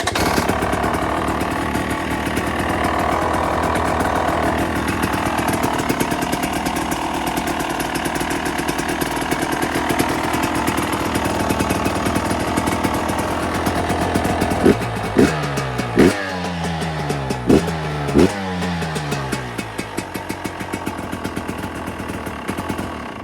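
A KTM 300 EXC TPI two-stroke dirt bike engine idles steadily and loudly, then gets several sharp throttle blips near the end, each revving up and falling back to idle.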